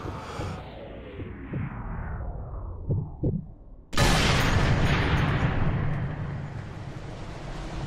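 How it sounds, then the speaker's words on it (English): Explosions in the video game Sniper Elite 3: muffled, low thumps fade out before a sudden loud, broad boom bursts in and rumbles on as it slowly decays. "Explosions going off, that's not going to excite your heartbeat when you're a trained sniper."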